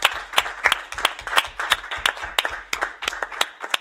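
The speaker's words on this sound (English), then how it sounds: "I'd like everyone to give a round of applause to our incredible panel." Audience clapping for a panel at a roundtable event, steady applause of many hands with dense rapid claps throughout, fairly loud and close, no talking over it.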